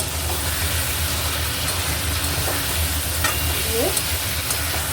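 Boiled chickpeas sautéing in a pan of vegetable curry with potato, pumpkin and pointed gourd, giving a steady close sizzle with a few faint stirring scrapes throughout.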